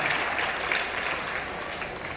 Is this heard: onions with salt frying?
no